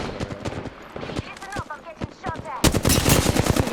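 Rapid automatic gunfire from the video game Apex Legends rattles in fast bursts and grows louder and denser toward the end, with voices talking over it.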